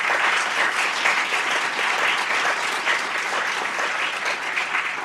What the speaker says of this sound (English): I want a big round of applause for our panelists